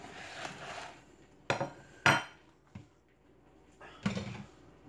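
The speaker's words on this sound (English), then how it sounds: "I'm gonna move this bowl over here." A bowl shifted across a kitchen counter during home cooking, giving a few sharp clattering knocks and scrapes up close, spaced apart with quiet gaps between.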